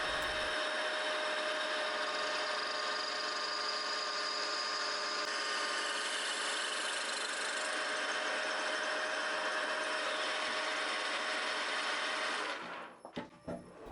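Drill bit boring an 8.5 mm core hole in metal for an M10 x 1.5 thread on a tilting mill table adjuster; a steady, loud whine runs continuously for about twelve seconds, then spins down and stops.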